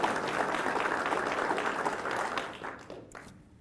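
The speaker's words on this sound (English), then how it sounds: "If we can get a round of applause for them as well." Audience applause at a law enforcement academy graduation, a dense, sustained wash of many hands clapping that fades out over the last second.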